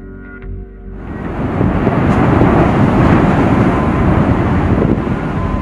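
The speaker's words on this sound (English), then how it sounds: "I can hear a rumbling. It's a roaring thunder" A deep, roaring rumble from an active volcano beside a lava lake swells up after a quiet start and holds steady, loud and close, with a gusty, wind-buffeted texture.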